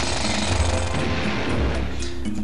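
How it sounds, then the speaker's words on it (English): Rapid, harsh drilling pounds continuously against a boulder in the Nintendo 64 game Banjo-Tooie, loud and close for the whole stretch, with no speech over it. "Here's the boulder I was talking about. Drill the crap out of it."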